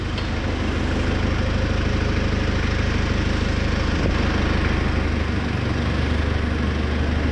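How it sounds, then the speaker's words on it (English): A forklift runs continuously while hoisting an engine into a Subaru STI in a garage, its engine droning loudly with a dense, rough rumble and faint rattling throughout. "So let the forklift rip"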